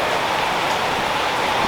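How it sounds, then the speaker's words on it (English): Gentle rain falls outdoors in a steady, even hiss of drops with no pauses, voices or other sounds over it. "I may just have to wander over there in a gentle rain."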